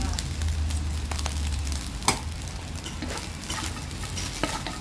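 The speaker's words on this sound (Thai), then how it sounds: "ผัดไปอีกสักพักนะคะ" Rice stir-fries in a pan with naem, sliced spring onions, shallots and chillies, a steady close sizzle broken by frequent spatula scrapes and clinks.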